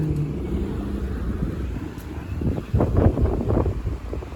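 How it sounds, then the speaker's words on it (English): Steady wind buffets the microphone on Eglinton Avenue West in Toronto, a low rumbling roar that swells louder in gusts toward the end. "And it's kind of windy here."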